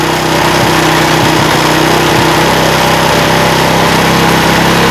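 A motorcycle engine that is hard to start, with a loose intake manifold bolt and a racing throttle, idles loudly up close in a steady dense drone while the throttle is adjusted.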